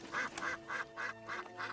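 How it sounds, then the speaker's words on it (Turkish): A duck quacks in a dubbed children's fantasy film, six evenly spaced nasal quacks in a steady rhythm, clear against a quiet backdrop. "Hey bak, ördekler de var."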